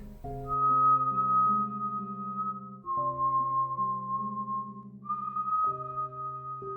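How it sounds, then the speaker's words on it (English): A person whistles a melody outdoors on a moonlit night: clear, sustained notes in three phrases, with brief breaks between them, over a steady low tonal drone. "I whistled back."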